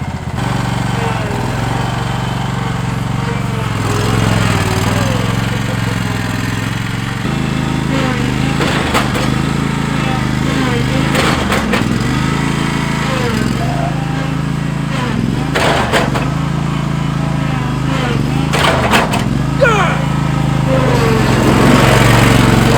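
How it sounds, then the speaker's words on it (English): A zero-turn lawn mower engine drones loudly and steadily nearby while it pops wheelies on a road, with the pitch dipping and surging in bursts as the throttle changes. "you want me to show you how to pop some wheelies on the zero turn?"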